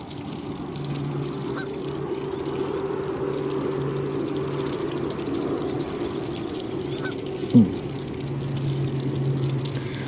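Waterfowl honk and call steadily at a moderate distance over a low outdoor background hum, with one sharper call standing out near the end.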